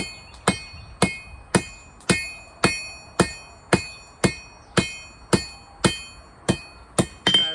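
Hot metal is hammered on an anvil at a forge: about fourteen ringing, metallic strikes land in a steady, even rhythm, loud and close, with no talking.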